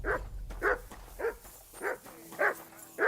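A dog barks six times at an even pace, with each short, mid-pitched woof close and clear and separated by brief quiet gaps.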